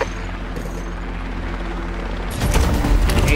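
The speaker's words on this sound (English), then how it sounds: "It's a helicopter." A helicopter in the Roblox Arsenal video game, a steady rotor drone throughout that grows louder and harsher near the end, with a burst of gunfire-like crackle.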